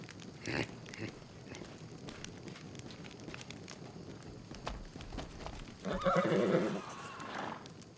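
A small horse in the fantasy game Pathfinder: Wrath of the Righteous neighs loudly near the end, following soft hoof clops and a quiet ambient bed of wind and crackling.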